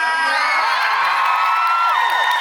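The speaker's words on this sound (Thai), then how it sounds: "ขอเสียงรีและปรบมือดังให้กับพี่นิสตานค่ะ" A crowd of fans screams, whoops and cheers for a performer at a Thai series promotional talk event, a dense, loud wall of high voices sustained throughout.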